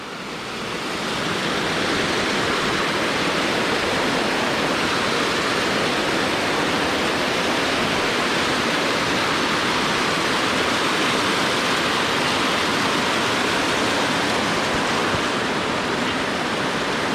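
Rushing stream water at a trail crossing fed by glacier or snowmelt near Snoqualmie Pass, a loud, steady broadband roar close by that holds constant throughout with no talk.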